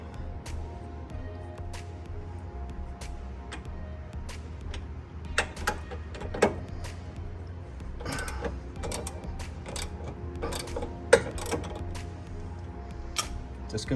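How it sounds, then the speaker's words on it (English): Socket ratchet clicking while loosening the sway bar bolts on a 2006 Mustang GT during a Pedders sway bar kit install, heard as scattered, irregular bursts of ratcheting over a steady low garage hum. "get a 15mm socket and ratchet"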